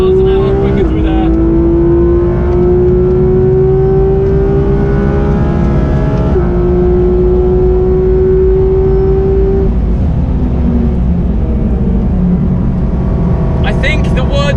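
A Porsche GT sports car, either a GT2 RS, GT3 RS or GT3, drives fast on a track, its engine note climbing steadily through gears with shifts, loud and close, then easing off near the end.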